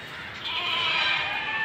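Goats bleat in a busy livestock market at Deonar in Mumbai, a sustained wavering bleat rising from a noisy crowd background and swelling louder halfway through.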